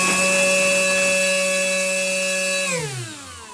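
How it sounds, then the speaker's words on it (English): Electric motor spinning a 9-inch 3D-printed three-bladed fixed propeller gives a loud, steady, close whine with a clear pitch that then drops as it spins down. "A 9-inch 3D printed 3-bladed fixed propeller."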